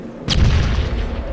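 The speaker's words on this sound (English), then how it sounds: "Grenade." A grenade bursts in the game Fallout Tactics with a sudden loud boom, followed by a deep rumbling roar of debris and echo that sustains without fading for over a second.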